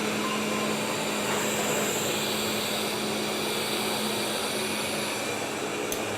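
A Roborock S7 robot vacuum runs on turbo suction, giving a steady, close, even whoosh with a faint constant tonal hum, no talk, holding level for several seconds.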